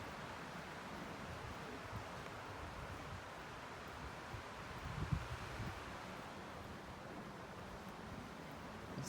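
Strong wind whipping through a Florida state forest on a hike, a steady, faint broadband rush with a brief gust swelling midway, and no voices.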